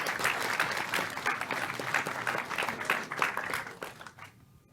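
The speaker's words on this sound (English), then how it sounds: "Give yourselves a round of applause." Audience applause in a packed comic convention panel room: loud, dense clapping from a large crowd that holds steady, then fades quickly away near the end.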